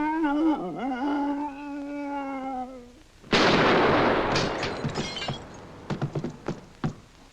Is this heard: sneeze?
no